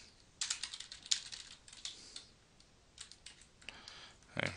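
Typing on a computer keyboard: quiet, irregular bursts of key clicks, some keys struck harder than others, with short pauses between runs and a louder final clack.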